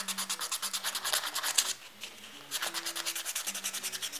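Sandpaper rubbing a glued 3D-printed Japanese minnow fishing lure, a close, rhythmic rasping of quick back-and-forth strokes that pauses briefly midway, then resumes at a steady pace.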